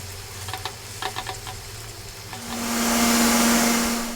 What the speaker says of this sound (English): we're going to blend this or liquidize it, whatever you want to call it, get it nice and smooth.